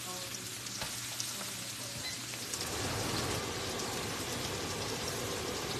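Onions and peppers hit a hot pan and sizzle loudly, a dense crackling hiss that swells and stays steady; no one speaks.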